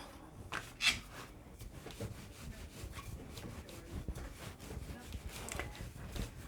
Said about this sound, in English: So we'll roll another one out.